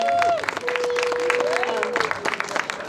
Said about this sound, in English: Give the teachers a round of applause